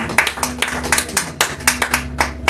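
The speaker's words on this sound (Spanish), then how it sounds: "Dale un fuerte aplauso por la palabra del Señor." A small church congregation claps at a talk on the origins of ecumenism, distinct sharp hand claps in a loose, uneven rhythm, close and fairly loud, roughly a dozen strikes.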